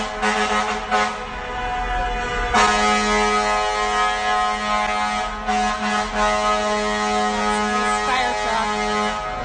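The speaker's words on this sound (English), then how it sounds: "everybody's honking" Air horns and car horns blaring continuously on a crowded New York City street during a blackout, long sustained honks overlapping, loud and close.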